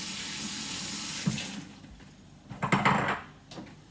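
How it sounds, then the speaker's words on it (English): Water from a kitchen tap runs steadily as hands are rinsed during meatloaf preparation, a close, continuous hiss with brief splashy surges where the hands move under the stream. "Rinse my hands."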